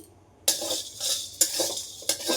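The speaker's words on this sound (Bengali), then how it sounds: "এটা একটু শুকনো খোলায় আমি ভেজে নিচ্ছি" Garlic dry roasting in a pan with no oil, three distinct scraping stirs of a utensil against the pan, each followed by a brief rustling dry hiss, close and without speech.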